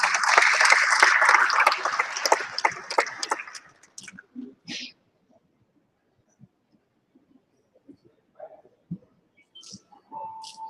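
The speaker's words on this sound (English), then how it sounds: "Let's give him a round of applause." A conference audience gives a short round of applause for a speaker, dense clapping for about four seconds that fades out, followed by near silence with a few faint scattered knocks and rustles.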